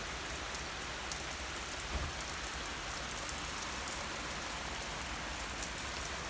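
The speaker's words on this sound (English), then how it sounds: "And yet again, it's raining." Steady rain falls continuously as a dense, even hiss of drops on surfaces, with no talking over it.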